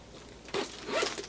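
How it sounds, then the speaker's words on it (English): A bag's zipper with a leather or leatherette pull is drawn in one short zip, a brief rasping run followed by a second louder rasp, close up with no talking. "Is it a good zipper? Let's see."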